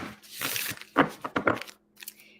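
Tarot cards are shuffled by hand in short, crisp riffling bursts with papery crackles, close up, ending in a quiet pause and a faint tap.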